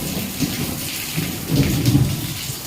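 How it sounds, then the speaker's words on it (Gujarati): Heavy rain pours steadily at night during a sudden summer thunderstorm, with low thunder rumbling through the loud downpour and no talking. "જોરદાર ગાજવીજ સાથે વરસાદનું આગમન છે"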